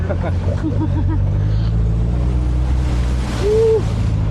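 An off-road vehicle's engine drones steadily on a desert trail at the volcanic Mt. Pinatubo, its loud low rumble running throughout while voices speak over it.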